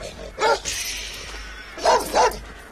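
A dog barks at a gate in two bursts, one single and one doubled, loud and close, with quiet between.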